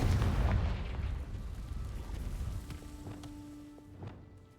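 A Confringo blasting spell in Hogwarts Legacy lets off a loud booming burst at the start. The rumble then fades, and a few softer pops and tonal magical chimes follow.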